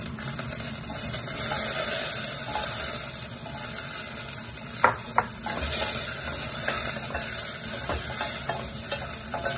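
Onions sauté in a pan for chicken sinigang, sizzling steadily and close by while a utensil stirs and scrapes them, with a couple of sharper clinks partway through and no talking.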